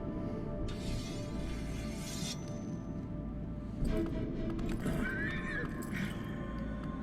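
A horse neighs in the Shadow of the Colossus video game, a whinny rising over hoof clip-clop and a steady game ambience, with faint talk beneath.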